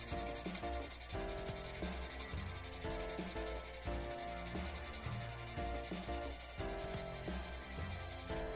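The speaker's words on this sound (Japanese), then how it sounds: "ここは押し出しピン跡は削りますけどね、そんなに厚みは削らないんでね、押し出しピン跡だけ削るんで" A file scrapes ejector pin marks off a plastic part of a 1/24 Nissan R92CP model car kit. The close, steady rasping strokes repeat in a quick, even rhythm with no talk.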